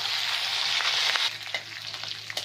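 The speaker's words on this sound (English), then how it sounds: "See, we have to fry a little bit" Grated ginger, garlic and spices fry in hot oil for chole, giving a dense, steady sizzle that runs close and loud, then loosens into crackling pops and a few sharper spatters after the first second.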